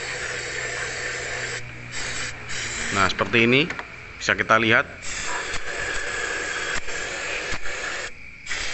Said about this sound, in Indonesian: Ini kita bersihkan intake-nya menggunakan karburator cleaner ataupun injector cleaner ya. Cukup kita semprotkan